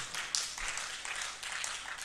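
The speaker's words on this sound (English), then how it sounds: "let's give them a round of applause" An audience at a national investment quiz competition claps for departing contesting schools, steady soft applause filling the room without pause at moderate distance.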